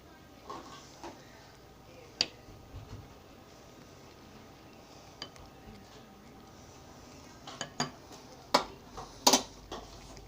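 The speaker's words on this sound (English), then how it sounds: "just mix it up. Stir them in there." A spoon scrapes and clinks against a pan while sausage gravy is stirred, scattered sharp taps and knocks over a quiet background, sparse at first and busier near the end.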